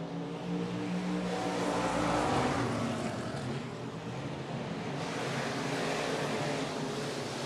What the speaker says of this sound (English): Bruce Wickman in command, the Wickman Auto Salvage 27, longtime stock car competitor